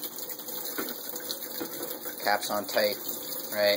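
Photographic stop bath chemical is poured back into its bottle during film processing, a steady gurgling trickle of liquid near the listener, with a person talking over it.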